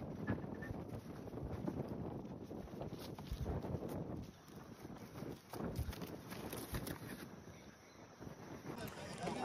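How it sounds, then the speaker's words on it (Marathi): Strong gusting wind on a fort trek near Sinnar, Nashik, buffeting the microphone in loud uneven rumbles that rise and fall. "खूप सोसाट्याचा वारा चाललाय."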